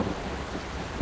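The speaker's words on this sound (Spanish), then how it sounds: "Me gusta cómo se ve el reflejo de la calle así cuando está lloviendo." Rain and thunder in the driving game Indonesia Bus Simulator, a dense steady downpour hiss with a low rumbling thunder bed and a brief heavier boom near the end, loud and constant with no voices.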